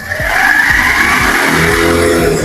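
A fuel-injected motorcycle engine revving up and held at high speed, a loud, close, steady whine rising over a low mechanical rumble.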